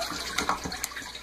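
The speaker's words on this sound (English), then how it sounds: "That is the sound of the water circulation." Water circulates through a custom hydroponic setup with clay pellets growing dwarf tomatoes, a continuous close trickling and splashing with small gurgling drips.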